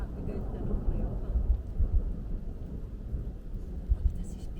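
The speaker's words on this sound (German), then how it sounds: "Ja, das Donnern." Distant thunder rumbling low and heavy during a storm near Grand Lake along Highway 14, with rain and wind noise and a voice murmuring in the background.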